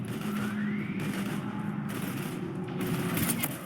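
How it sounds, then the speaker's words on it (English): Gunfire in the video game Mass Effect 3 rattles in dense rapid bursts over a loud background of battle noise and engine-like rumble, continuous throughout. "I've got Lieutenant Vega with me, but we're taking heavy fire"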